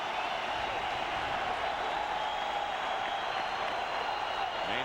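A large crowd at a Giants versus Cubs baseball game at the stadium roars and applauds in a steady, dense wash of sound that holds at even loudness from start to finish.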